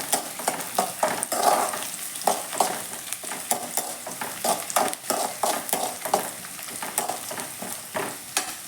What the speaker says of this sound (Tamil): இது கொஞ்சம் வதங்கினோடனே நம்ம தக்காளி சேர்த்து நல்லா வதக்கி விடணும்